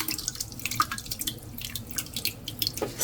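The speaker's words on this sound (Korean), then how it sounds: "우선 요거를 체에다 쭉 짜내야 됩니다." Soaked malt water for sikhye is squeezed by hand through a sieve, giving close, irregular drips and splashes of liquid falling into a bowl, with small wet squelches.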